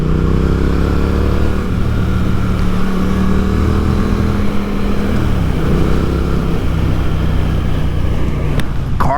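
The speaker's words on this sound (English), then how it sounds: "Carving through these back roads, this bike just responds so well." A 2024 Triumph Speed Twin 900 motorcycle ridden along back roads, its engine a steady close droning rumble with slight pitch shifts as the throttle varies, mixed with wind noise and no talk.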